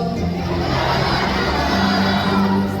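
A crowd at a bird show calls out a greeting to Jumbo the macaw, a loud, dense wash of many voices and children shouting together, sustained throughout.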